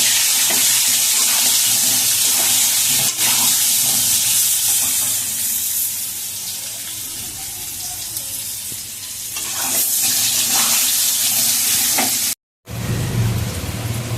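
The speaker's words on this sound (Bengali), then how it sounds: "এই আলুটাকে এবার লাল লাল করে ভেজে নেব।" Potato pieces seasoned with turmeric and salt fry in hot oil until reddish-golden, giving a steady loud sizzle with occasional stirring scrapes throughout, briefly cut near the end.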